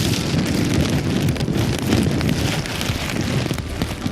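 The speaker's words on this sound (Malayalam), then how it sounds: "ശിരൂരിൽ കനത്ത മഴ തുടരുകയാണ്." Heavy rain pours steadily at Shirur, a dense continuous hiss and patter with wind buffeting the microphone, loud and unbroken throughout with no voices.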